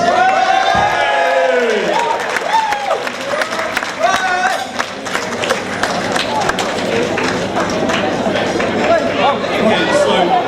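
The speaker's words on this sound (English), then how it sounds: "I want all of you to give yourselves a massive round of applause." A large crowd claps and cheers loudly and continuously at a wedding reception, a dense steady roar of applause with voices mixed in.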